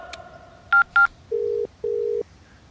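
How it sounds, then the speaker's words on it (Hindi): A phone is dialed with a few quick keypad beeps, then two steady ringback tones sound, clear and close with no talking over them. "रिंग जा रही है सर।"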